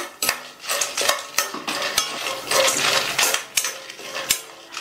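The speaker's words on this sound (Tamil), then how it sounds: "மிதமான தீயில வச்சு எல்லாத்தையும் வறுத்துக்கலாம்" Peanuts and dried red chillies dry-roasted in a pan over medium heat, with repeated metallic clinks and scrapes of a spatula stirring against the pan in an irregular rhythm, close and clear.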